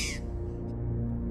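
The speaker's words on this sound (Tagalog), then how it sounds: "napalingon kaming dalawa nang makarinig ng huni ng uwak." A single short crow caw at the very start, fairly close, then fades into a steady low hum for the rest of the moment.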